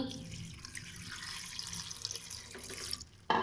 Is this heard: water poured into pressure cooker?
yes